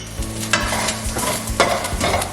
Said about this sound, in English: we're just going to move that around